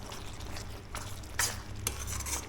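Ground masala for Mangalore hotel-style squid sukka simmering in a pan, a steady low bubbling and sizzle with a few soft spoon scrapes and clinks, close and alone.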